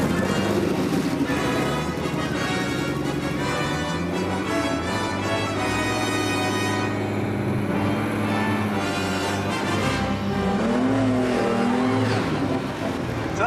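A racing car at the Shelsley Walsh hillclimb revs and accelerates repeatedly to warm its tyres, loud and close, with rising and falling engine pitch and brief speech from people nearby.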